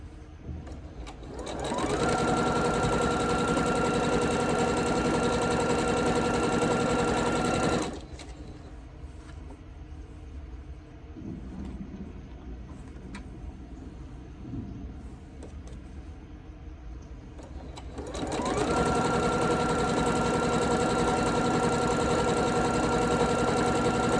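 A sewing machine stitches a quilt block in two steady, whirring runs with a quieter stretch of handling between them.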